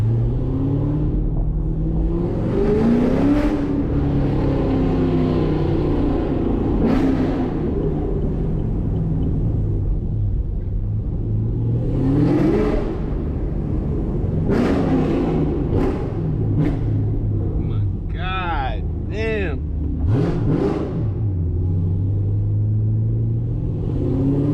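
The exhaust of a manual Chevrolet Camaro SS 1LE rumbles at idle, then climbs through repeated rising revs and sharp throttle blips before settling. It sounds loud and close, with no voices over it.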